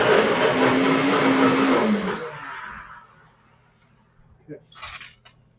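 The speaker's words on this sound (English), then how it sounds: "I'm going to puree these vegetables" A blender whirs loudly, pureeing vegetables for a pinto bean and mushroom loaf, then winds down over a couple of seconds, followed by a few faint knocks and a short clatter.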